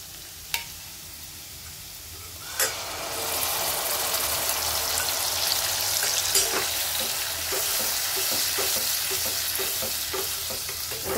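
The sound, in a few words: whisking and stirring yogurt mixture with garlic in a pan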